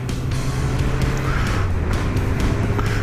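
A Honda CBR 1000F motorcycle hums steadily as it's ridden, a constant engine drone mixed with heavy wind rush, close and continuous throughout.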